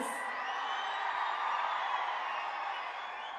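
Dense crowd applause and cheering at an outdoor political rally, a steady loud wash of clapping that holds evenly throughout with no clear pauses.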